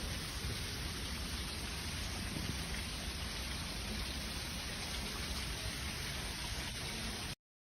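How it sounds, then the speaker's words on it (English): Steady rain falls during Hurricane Helene, a dense, even hiss of downpour heard close and alone without any voices. "Absolutely hear the rain."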